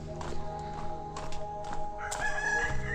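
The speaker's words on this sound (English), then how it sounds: "Classic rooster just on the way to Waterfalls, as you expect in Asia." A rooster crows along a jungle path in Bali on the way to waterfalls, a fairly close call rising over a steady background of other sounds, with a bright drawn-out crow toward the end.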